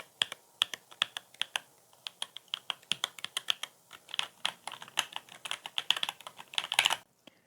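Rapid keystrokes on a Marvo KG958W mechanical keyboard fitted with yellow switches, a steady stream of crisp close clicks and clacks heard alone without talk, thickening into faster bursts toward the end.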